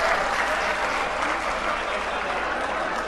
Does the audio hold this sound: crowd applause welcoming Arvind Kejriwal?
yes